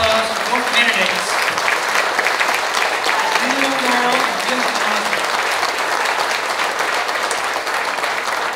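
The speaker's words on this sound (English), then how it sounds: "let's give a round of applause to both candidates" Steady applause from an audience at the Guam Chamber of Commerce 2022 gubernatorial forum, dense and sustained throughout with faint voices murmuring underneath.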